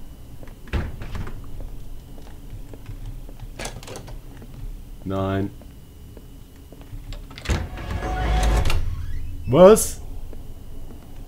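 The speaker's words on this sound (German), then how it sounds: "hört auf mit so Geräuschen, nur weil ich eine Tür öffne" Door creaks and clunks in the German horror video game Pineview Drive, a few separate bangs and a grinding creak spread through the stretch, with someone speaking briefly over them.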